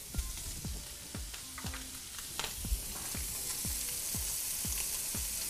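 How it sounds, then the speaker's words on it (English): Food browning in butter in a pan, with onions and minced garlic about to go in: a steady close sizzle with a rhythm of stirring scrapes and soft clinks, no voices. "As you start browning up, add about 2 tablespoons of butter."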